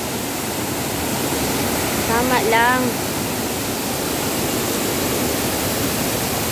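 Sian Falls in Bislig, Philippines, pours steadily as a broad, constant rushing hiss. A brief voice and a short whistling or chirping sound rise over it midway before the water noise continues alone.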